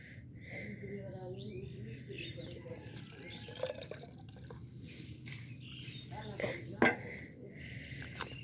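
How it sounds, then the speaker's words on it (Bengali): Water is poured to fill a small container, giving light trickling and dripping splashes, with bird chirps and faint voices in the background. "এবার পানি ভরবো"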